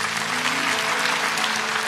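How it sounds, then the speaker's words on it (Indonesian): A church congregation claps loudly and steadily for Jesus, a dense wash of applause filling the short moment with no break. "kasih tepuk tangan untuk Tuhan Yesus"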